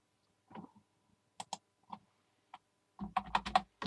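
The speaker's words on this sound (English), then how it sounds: "let's type in a change" Short bursts of computer keyboard typing, with scattered single keystrokes at first and then a quicker run of keys near the end, close and clear over a quiet background.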